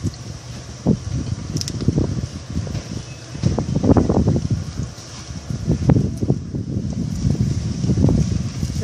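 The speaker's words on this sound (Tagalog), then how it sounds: "Sobrang lakas ng hangin guys." Strong gusting wind buffets the microphone on a city outing in Hsinchu City, rising in loud, rumbling surges with no talking.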